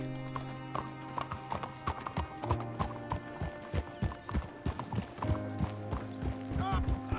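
Rhythmic hoof clip-clops from a walking horse in Red Dead Redemption 2, fairly close, with a steady musical drone and occasional soft voices underneath.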